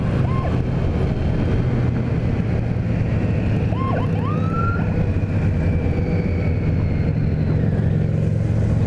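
A sheriff's vehicle siren sounds in the distance, with faint rising and falling wails over a steady low motorcycle engine drone and road and wind rumble, all the way through.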